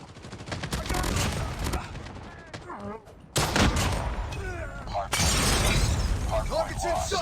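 Rapid gunfire in the Call of Duty Mobile game during a Hardpoint match, with loud, dense automatic bursts and sharp impacts that carry on almost without pause and swell in sections.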